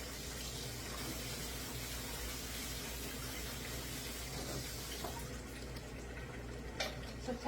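Water runs steadily over drained kidney beans as they are rinsed, a continuous moderate splashing stream that ends with a few faint clatters.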